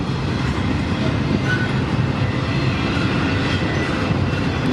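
A freight train rumbles past on a windy day, a dense, steady roar of rolling cars and wheels, loud and continuous throughout with no voices.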